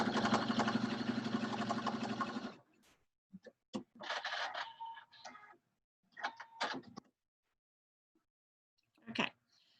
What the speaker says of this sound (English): I just stitched about 1/8 of an inch on either side of the line